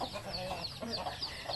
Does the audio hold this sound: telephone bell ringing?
no